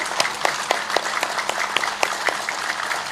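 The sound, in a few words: loud hand clapping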